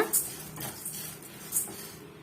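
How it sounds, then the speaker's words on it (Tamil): Lentils roasting in a pan over a medium flame for idli podi, with a spoon scraping and clinking against the metal in a few brief strokes over a soft background hiss. "இப்ப மீடியமான பிளேம்ல வச்சு இதை பொன்னிறமா வறுத்து எடுத்துக்கலாங்க"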